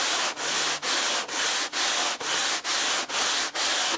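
Sandpaper rubbed back and forth over a model airplane part, a Windy U Master 801 bent-wing Stuka, at a sanding table: nine even, loud, close strokes in a steady rhythm with brief pauses between.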